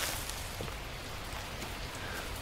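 Rain beginning to fall in the survival video game The Last Plague: Blight, a steady broadband hiss of drops at even loudness throughout, with no talk.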